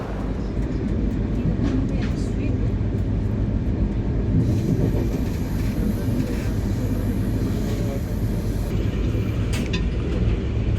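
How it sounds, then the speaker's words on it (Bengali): The Chennai–Bengaluru Shatabdi Express pulls out of Jolarpettai Junction, a steady loud rumble and rolling noise heard from inside the coach with a few higher squeals over it. "এই যে ট্রেন ছেড়ে দিচ্ছে জোলারপেট্টাই জাংশন"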